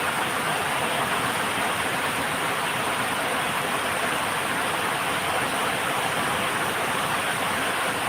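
Steady, dense rain hisses without a break, an even wash of noise with no voices.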